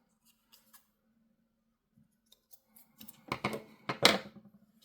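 Scissors trimming paper, with a few faint snips at first and then a quick cluster of louder, crisp cuts near the end, close up with no talking.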